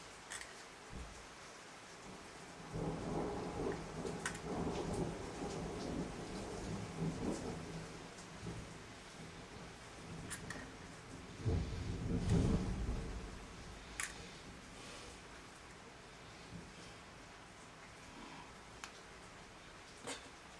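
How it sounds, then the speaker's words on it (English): Thunderstorm with low rumbling thunder rolling in twice, around three and twelve seconds, over a steady hiss of rain falling outdoors; fairly faint and distant, with no talk. "They predicted thunderstorms and we got a thunderstorm."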